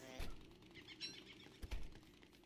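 A crow flaps its wings in the game Don't Starve, giving a few short, soft fluttering bursts close by over a quiet game background.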